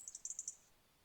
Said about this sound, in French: Il y a un oiseau là.